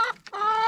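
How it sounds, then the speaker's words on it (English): A Silkie chicken rooster gives a short, close burst of clucking and a brief crowing-like call, two quick bright vocal notes separated by a tiny pause. "There's a splash rooster, a black and white hen, and there's another one running around somewhere."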